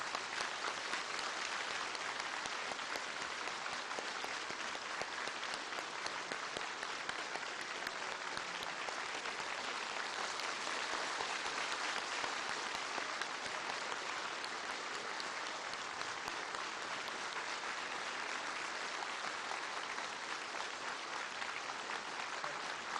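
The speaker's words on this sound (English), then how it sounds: "Please give a warm round of applause to welcome President Barack Obama" Students in China give a long, steady, dense round of applause welcoming President Barack Obama, continuous and evenly loud throughout with no voices rising above it.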